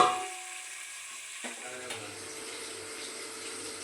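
Goat meat fries in oil in a pan with a faint, steady sizzle and hiss that runs under a quiet background, with a light clink near the start.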